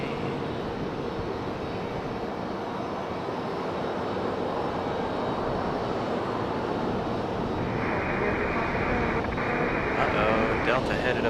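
A steady, broad jet engine roar of a Delta airliner taking off at Raleigh-Durham International Airport, continuous and rising slightly toward the end, with wind buffeting the microphone.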